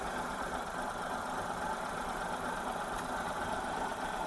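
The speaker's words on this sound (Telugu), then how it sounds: "ఇంజన్ బీటింగ్ కూడా చాలా సైలెంట్గా ఉందండి" Hyundai Eon D-Lite petrol car engine idling, a quiet, steady low hum with faint even beating and no speech.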